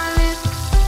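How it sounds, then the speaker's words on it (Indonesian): Marinated chicken for ayam kriwil fries in hot oil, a loud continuous sizzle with three bubbling surges in quick succession, close up and without talk. "ayam yang sudah dimarinasi, lanjut untuk digoreng"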